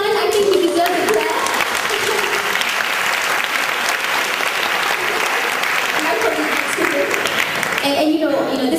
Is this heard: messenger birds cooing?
no